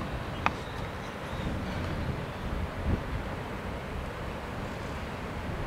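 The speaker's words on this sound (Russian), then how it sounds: "Ветер." Early-morning wind in Buenos Aires on the last day of winter rushes steadily as a broad, even roar, with a faint gust thump and no voices present.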